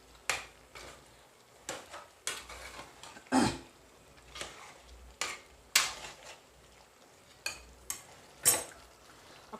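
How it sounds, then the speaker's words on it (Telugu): Two spoons of garam masala stirred into a chicken curry, a spoon scraping and knocking the pan in roughly a dozen distinct strokes at an uneven rhythm over a faint sizzle, close and without speech. "మనం దీంట్లో గరం మసాలా వేసుకుందాం టూ స్పూన్స్ గరం మసాలా బాగా కలుపుకుందాం"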